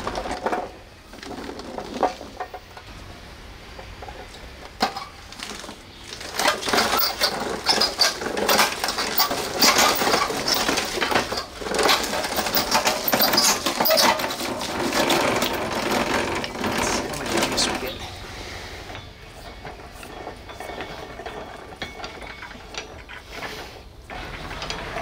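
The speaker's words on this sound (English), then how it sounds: "So I'm going to grind these up first, get a measurement, set it aside" A cider-making machine grinds fresh apples and crab apples with a continuous rattling, clattering mechanical churn that swells louder in the middle and eases toward the end, with no talking.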